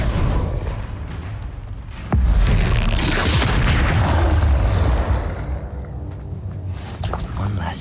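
A Confringo blasting spell goes off in the Hogwarts Legacy video game: a sharp boom at about two seconds, followed by a loud, sustained rumbling roar of fire and debris within dense game action.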